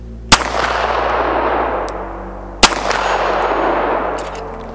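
Two loud, sharp pistol shots from a Dan Wesson Specialist 1911 ring out about two seconds apart, each followed by a long echoing decay at a range, with no talking.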